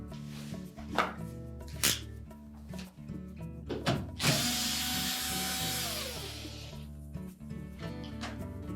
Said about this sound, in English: So we'll remove the screw that holds that in place.